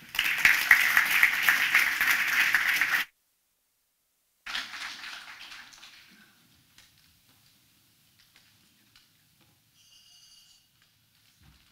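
Audience applause at a startup incubator showcase, a loud burst of clapping that cuts off, then a shorter second round that fades to scattered claps and quiet.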